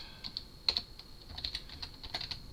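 Light, quick keystrokes on a computer keyboard clatter in irregular bursts while someone codes, soft and close with brief pauses between clusters of taps.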